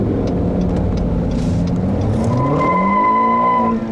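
An Acura ILX revs hard as its tires spin and squeal. A loud, close engine note rises, and a sustained high-pitched squeal cuts in near the end. No one talks over it.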